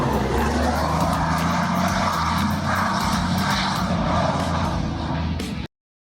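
A black Mammoet Volvo FH05 heavy truck roars past with a loud, dense engine drone that holds steady for several seconds before cutting off abruptly.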